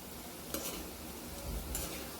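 Kanda bhaje, onion fritters, stirred and turned in hot frying oil, with a steady soft sizzle and two brief scraping stirs, fairly quiet and with no voices.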